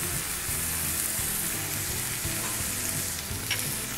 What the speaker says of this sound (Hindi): आप देख सकते हैं यहाँ पे मसाला हमारा अच्छे से भुन गया है, साइड से अच्छे से तेल भी आ गया है